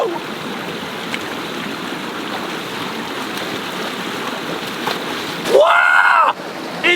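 Wading and swimming in cold, shallow water in the Australian bush, a steady close wash of moving, splashing water, with a brief loud rushing surge near the end.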